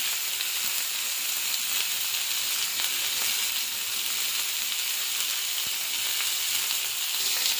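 Cluster beans (goru chikkudu) fry in hot oil with a steady, bright sizzle and hiss, constant and close with no talking over it.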